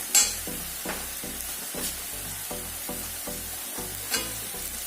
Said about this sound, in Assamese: আদা নহৰু বটাখিনিও ভাজা হৈ গৈছে।